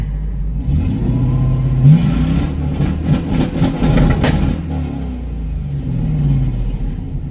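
A 1994 Chevrolet Corvette C4 with an LT1 V8 and six-speed manual revs up hard in a few loud bursts, rumbling deeply between throttle blips, then settles back to a steady growl.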